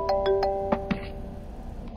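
A short electronic phone ringtone plays a quick series of bright, chiming tones, close and fairly clear, with no talking.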